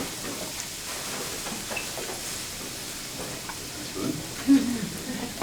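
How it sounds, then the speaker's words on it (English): Mushrooms and onions, sautéed the day before, reheating in an oiled frying pan give a steady, faint sizzle with a few louder pops and stirring scrapes near the end. "I'm just going to throw my sauteed mushrooms and onions that I sauteed yesterday into the pan"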